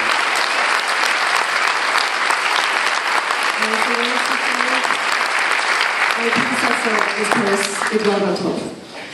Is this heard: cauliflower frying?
no